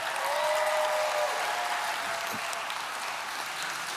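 A church congregation breaks into dense, sustained applause to welcome a baptism candidate, a broad wash of many hands clapping that fills the room at a steady level, with a faint voice briefly under it near the start.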